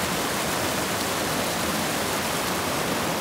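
A stream's running water rushes as a steady, loud, unbroken hiss, close by and with no voices over it.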